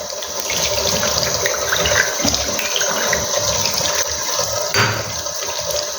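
Water poured from a tap onto fermented tomato seeds in a container, a loud continuous rushing splash lasting several seconds, close up with no talking.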